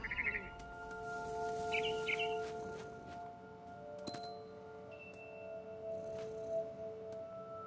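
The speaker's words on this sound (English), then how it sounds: "Then I heard chirping outside my window. It was a barn swallow going back to her nest." Barn swallow chirping outside a window in the game What Remains of Edith Finch, a few short high chirps early on over a sustained ambient musical drone and occasional bell-like clinks.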